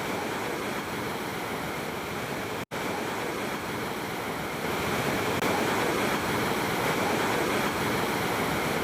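Water gushes through the open gate of the KRS dam in Mandya district in a loud, unbroken roar of rushing flow, steady throughout with one brief cut.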